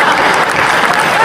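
An audience applauds at a Hindi kavi sammelan poetry recital, a loud, dense burst of clapping from a crowd that fills the whole brief moment.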